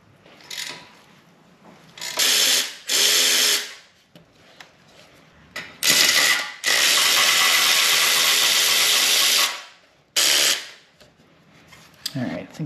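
A ratchet works 12 mm nuts loose on the radiator mount of a Yamaha FZ motorcycle, with short bursts of rapid clicking followed by one long sustained stretch of ratcheting, close and loud, with quiet handling noise between.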